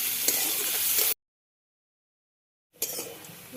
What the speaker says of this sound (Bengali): নারকেলগুলো ভাজা হয়ে আছে